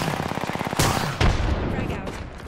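Rapid automatic gunfire in a video game, a fast rattling burst with a couple of heavier blasts, loud and close throughout.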